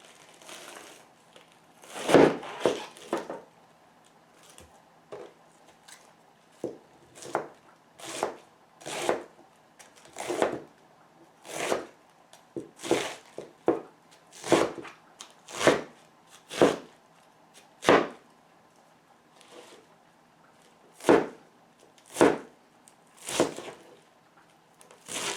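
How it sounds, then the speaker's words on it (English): A knife chopping lettuce for a salad on a board, about twenty separate crunchy cuts at an uneven, unhurried pace, close and fairly loud against a quiet background with no talk. "I'm going to be chopping this lettuce for our salad."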